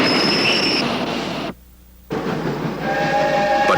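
A train rumbles and squeals along the rails as it gets moving, with a sustained loud roar, wheel squeal and whistle-like tones broken by one brief cut near the middle.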